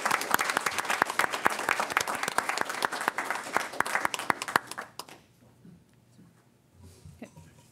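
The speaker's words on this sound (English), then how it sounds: "Let's give them a rightful round of applause." A crowd at a Los Angeles Fire Department award presentation applauds steadily with dense clapping for about five seconds, then it stops abruptly, leaving quiet room noise and faint shuffling.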